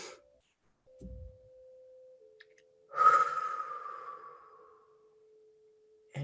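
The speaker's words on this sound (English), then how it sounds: "So you breathe out for 4, then hold it, then inhale, then hold it." During a slow box-breathing exercise, a long, drawn-out exhale rises clearly from near-silence and fades gradually, with a steady faint tone sustained underneath and quiet gaps on either side.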